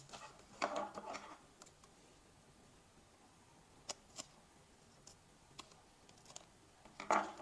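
Scissors snip paper while a Valentine's Day journal page is trimmed, a few quiet, brief cuts scattered among faint handling noises in a hushed room, with clusters near the start and end.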